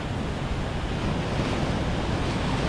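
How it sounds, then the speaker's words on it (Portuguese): Strong east wind on a rocky seashore roars steadily across the microphone, a dense, rushing noise with no breaks and no voices. "acho que é um vento leste"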